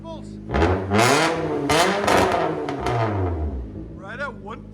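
Loud revving from a straight-piped 2013 Nissan Altima coupe, 2.5L engine, 2.5-inch high flow cap, with several sharp rising and falling bursts up close and faint voices at the end.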